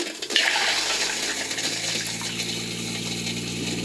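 A Thetford Aqua-Magic V RV toilet flushes with the valve opened fully, sending a steady loud rush of water that drains the bowl for several seconds, close by with no talking.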